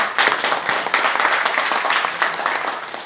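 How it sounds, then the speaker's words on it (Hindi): Audience applause at a business plan presentation seminar; dense, steady clapping from a sizeable crowd for a few seconds, loud and close with little talk over it. "एक बार जोरदार तालियां।"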